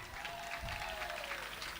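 Crowd applause rises at a live Navratri stage program in a village, an even, continuous roar of clapping heard from a distance, fairly faint and steady throughout.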